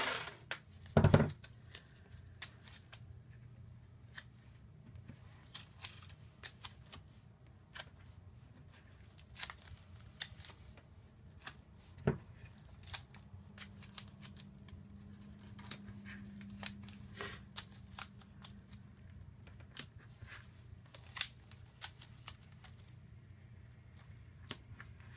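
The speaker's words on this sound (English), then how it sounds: "you can flip it upside down and quickly tape the bottom" Tape is pulled and pressed across the bottom of a cardboard model, a loud rip at the start and then a long run of soft scattered crinkles, taps and rustles nearby.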